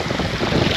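Seaside wind at Lazarevskoye on the Black Sea coast, a brief, steady rush of air buffeting the microphone, moderately loud and without voices.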